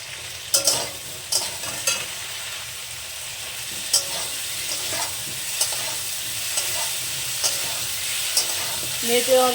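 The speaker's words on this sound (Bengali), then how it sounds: "তরকারিটা আমি সুন্দর করে কষে নেবো দিয়ে দিলাম মতন হলুদ" Fish and yam curry sautéing with turmeric sizzles steadily in a pan, near and constant, broken by occasional scrapes and taps of the stirring spoon, with no talk.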